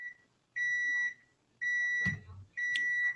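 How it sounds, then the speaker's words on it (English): Three steady electronic beeps in an even rhythm, clear and close, with a brief clatter partway through. "What that beeping sound, man?"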